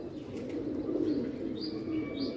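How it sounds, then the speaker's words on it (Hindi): Pigeons arriving from above at a rooftop loft, soft cooing and brief chirps over a low rumbling background, with faint wing flutter, moderately quiet and close. "ये देखें जी कबूतर आने लगे हैं ऊपर से।"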